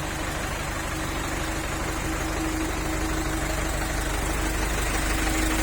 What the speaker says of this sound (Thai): ฟังเสียงเครื่องนะ